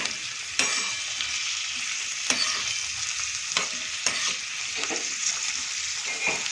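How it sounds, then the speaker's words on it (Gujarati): Onions being stirred in hot oil in a pan for a rajma curry: a steady bright sizzle runs throughout, with periodic sharper scrapes of the spoon against the pan, close and without speech. "ડુંગળીને આપણે આ રીતે થોડું તેલમાં મિક્સ કરી દઈશું"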